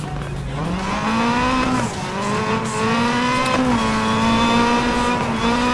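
A car races at high speed in Need for Speed: Most Wanted, its engine a loud continuous whine that climbs and shifts pitch through gear changes, up close with no talk.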